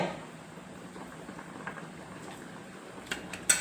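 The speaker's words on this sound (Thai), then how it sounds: "ให้มันน้ำเดือดก่อน" Coconut milk simmers in a pot with a low, steady bubbling, fairly quiet, with a few faint clinks near the end.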